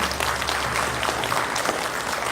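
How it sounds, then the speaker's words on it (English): A comedy-club audience applauds for a couple of seconds, a steady wash of clapping at moderate volume with no clear voices. "Give her a round of applause"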